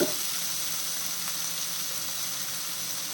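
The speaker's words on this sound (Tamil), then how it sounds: "தக்காளி வந்து நல்லா வதங்கணும்" Chopped tomatoes and onions sauté in a pan with a continuous, even hiss of sizzling oil, close and steady throughout, with no speech.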